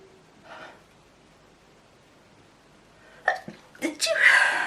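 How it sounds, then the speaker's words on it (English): After a quiet stretch and a short breath, a sharp intake leads into a loud, close sneeze with a hissing burst at the end. "Oh, I need to sneeze."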